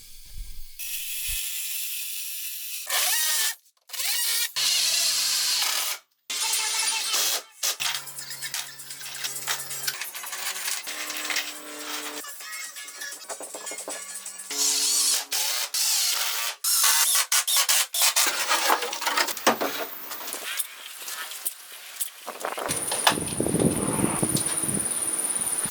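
Power tools drive screws through camper walls into a trailer frame, with repeated bursts of whirring and ratcheting, short pauses between them, and close, loud mechanical clatter.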